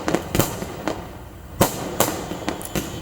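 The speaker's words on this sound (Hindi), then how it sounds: "और आतिशबाजी कितनी भव्य तरीके से की जा रही है आप देख सकते हैं।" Fireworks display in Chhattisgarh: a series of sharp, loud bursts and cracks at irregular intervals, each with a brief ringing tail, over a low background rumble and no talking.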